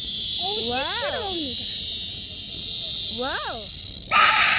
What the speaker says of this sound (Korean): 말매미입니다